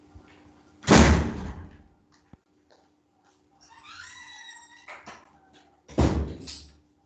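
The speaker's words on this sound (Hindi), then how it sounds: "आंधी चल पड़ी है, दरवाजे बंद किए" Doors slamming shut during a windstorm: two loud, close bangs a few seconds apart, with a creaking, squealing door or hinge sound between them and a faint steady hum underneath.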